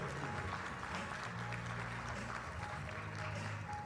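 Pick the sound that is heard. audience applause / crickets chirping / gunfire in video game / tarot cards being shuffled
audience applause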